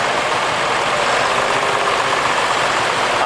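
A Ford 6610 tractor with safety cab and flat floor idles at an outdoor steam rally, a steady, dense mechanical rumble heard up close with no break.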